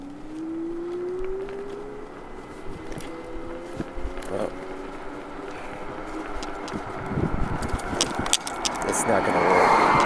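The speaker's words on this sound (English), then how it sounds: "And I gotta pay attention to the traffic." Street traffic passes along Bluff Street in St. George, Utah, with a rising engine hum, tire noise and scattered clatter from a camera mount, growing louder toward the end, while someone talks intermittently.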